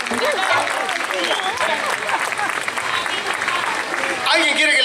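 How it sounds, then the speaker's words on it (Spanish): Audience applause at a children's show by an Argentine band, a dense steady clapping that fills the space close and loud, with children's voices and chatter mixed in throughout. "¡Fuerte el aplauso para Titaco!"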